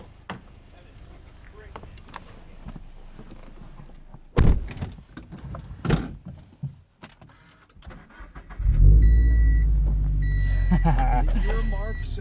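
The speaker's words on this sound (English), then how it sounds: "All right, enough talking. Let's go drive these cars." A Subaru BRZ sports car starts up with a loud close-up burst of engine noise, then settles into a steady, strong drone as it gets under way, after a few seconds of quieter cabin clunks and handling sounds.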